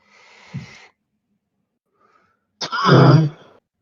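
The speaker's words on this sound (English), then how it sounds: "That was a cough." Two close, sharp throat sounds, a brief cough followed after a pause by a louder, rough throat-clearing cough.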